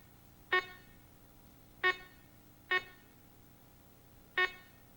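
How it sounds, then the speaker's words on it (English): A Garrett Magnascanner CS500 walk-through metal detector sounds its audible alarm: four short, clear beeps at irregular spacing over a quiet background hum, with no talking. "the volume level of the unit's audible alarm is displayed on the panel, and that volume level can be heard"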